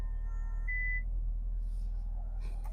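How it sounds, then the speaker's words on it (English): 2024 Camaro ZL1 convertible signals that its top has finished closing with a brief steady electronic beep over a low constant engine hum, no talking. "So you'll hear that beep, and that's when everything is good to go."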